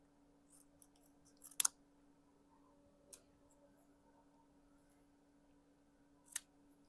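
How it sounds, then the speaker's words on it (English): A few quiet, crisp snips of scissors cutting paper for card making, spaced apart, with a faint steady hum underneath and otherwise near silence. "grab our scissors and cut a couple pieces"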